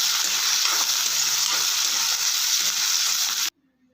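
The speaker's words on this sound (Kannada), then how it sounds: "ಇವಾಗ ಕಟ್ ಮಾಡಿಟ್ಟಿರೋ ಟೊಮೊಟೊ ಹಾಕ್ಕೊಳ್ಳೋಣ. ಚೆನ್ನಾಗಿ ಮಿಕ್ಸ್ ಮಾಡ್ಕೊಳ್ಳೋಣ." Chopped tomato hits a pan of frying green beans palya and is stirred in, a loud, close, bright sizzle that holds steady for three and a half seconds before cutting off abruptly.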